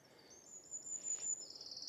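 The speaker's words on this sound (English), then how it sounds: "Got wren singing there, goldcrest." Small woodland songbirds such as wren and goldcrest sing high, thin, faint song from the spring trees, a brief trilling phrase fading in and out with no talk.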